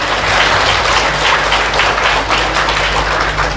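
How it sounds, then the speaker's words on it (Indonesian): A packed audience at a business seminar claps loudly and steadily, a dense close roar of applause with a low hum underneath, unbroken throughout with no speech. "Tepuk tangan sekali lagi, ya."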